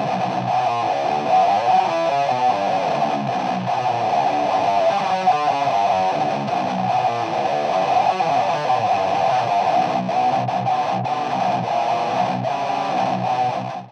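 Heavily distorted metal guitar chugging continuously at a steady loud level, with a harsh, honky midrange resonance around 700 Hz dominating the tone.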